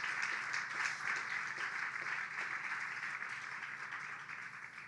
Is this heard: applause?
yes